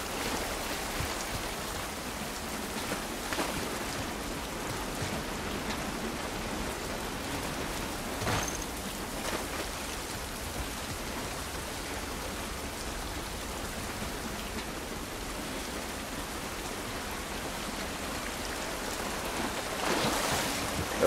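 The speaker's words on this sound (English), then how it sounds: "This rain ain't gonna do us any good." Rain falling outdoors in The Last of Us Part I video game, a steady hiss of drops pattering on surfaces that holds throughout with slight swells, no speech.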